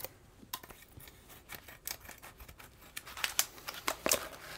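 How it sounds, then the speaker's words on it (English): Scissors snip along the seam of a folded Hush Mat sound-deadening mat in a quick series of close, crisp cuts mixed with faint crinkling, growing louder toward the end. "And then we're just gonna cut right down this seam right here."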